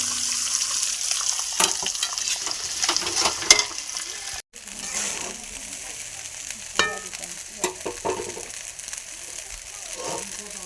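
Rice frying in ghee in a kadai gives a steady close sizzle, broken by scraping strokes and clinks as it is stirred.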